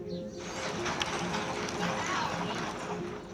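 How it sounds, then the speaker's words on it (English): Racehorse Mystic gallops through a morning workout on the Churchill Downs track, producing a fast, continuous drumming of hoofbeats with a voice faintly present underneath. "he's taking Mystic for his morning workout on the Churchill Downs track"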